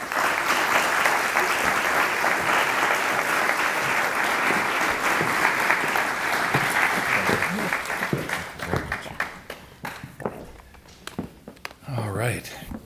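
Sustained audience applause fills the hall welcoming a speaker to the podium at a disability culture and equity talk, loud and steady for about nine seconds before thinning out into scattered claps and a few words.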